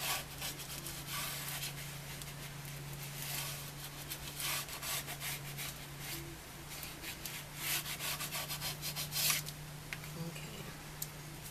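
Leather folio edges being burnished by hand, a steady rubbing friction with repeated stroking bursts over a low constant hum, close and moderately loud, no talking.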